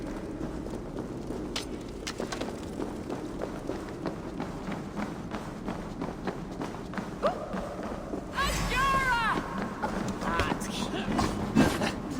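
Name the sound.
footsteps approaching in video game Assassin's Creed Valhalla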